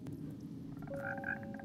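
Frogs croaking in the Minecraft video game, a few faint short croaks over a low steady background in the second half.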